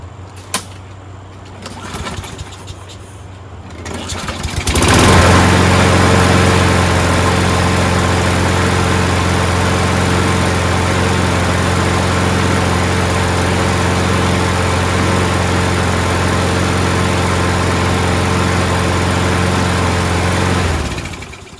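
A self-propelled lawn mower engine starts after a few pulls and runs steadily at high idle for about fifteen seconds to burn off oil, loud and close with a constant hum, then cuts off.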